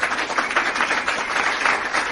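A live audience applauds steadily and continuously, a dense wash of many hands clapping at a close-to-moderate distance with no pauses.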